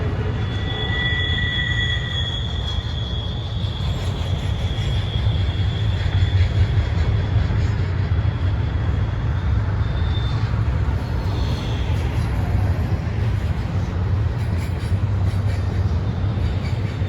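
A Norfolk Southern freight train led by three locomotives rolls past at Bluefield, West Virginia, producing a loud, continuous low rumble of wheels and cars with faint high squeals drifting in and out.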